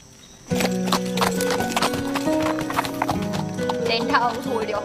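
Horse hooves clip-clop loudly and steadily with whinnying neighs mixed in, part of a dense, busy scene where voices are also heard.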